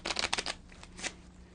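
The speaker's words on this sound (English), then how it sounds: "And you give the deck a shuffle." Quick crisp riffling of playing cards shuffled up close, a burst of rapid flutters followed a moment later by one shorter riffle.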